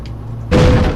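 A sudden heavy truck crash in Euro Truck Simulator 2 slams in halfway through, loud and close, after a quieter stretch of low rumbling.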